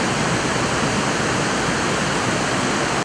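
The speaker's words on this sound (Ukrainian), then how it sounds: "Особливо бурхливою цю пору є один з найвищих каскадних водоспадів Карпат – Труфанець." Trufanets, a tall cascading waterfall in the Carpathians in full spring flow, gives off a dense, constant rushing roar of falling water, loud and unbroken until it cuts off abruptly at the end.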